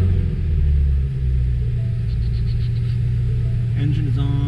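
A Ford Mustang GT350 with a flex fuel E85 setup idles with a deep, steady, loud rumble, close by, with faint higher tones creeping in near the end.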